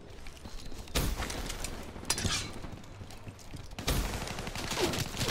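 Gunfire in Call of Duty: Black Ops 3 on the Nuk3town map, a few sharp bursts of shots at roughly one-second intervals over a busy game background, moderately loud.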